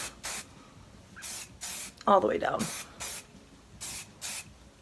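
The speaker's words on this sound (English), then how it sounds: "Now taking some of that Chi Texture Spray. And I'm going to spray that" Chi Texture Spray misted onto hair in a series of short, crisp aerosol bursts at close range, about eight spaced sprays, with someone speaking briefly in the middle.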